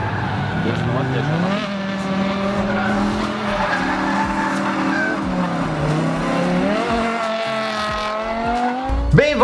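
A Subaru drift car fitted with a BMW V10 engine screams at high revs, its pitch rising and falling through shifts while tires squeal throughout, loud and sustained.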